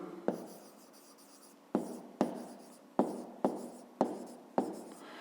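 A pen taps down and scratches across paper in short bursts, seven or so separate strokes with quiet gaps, close and dry, during a fifth-grade maths exercise with no voice.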